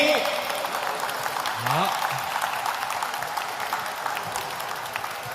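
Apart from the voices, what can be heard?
applause welcoming the general manager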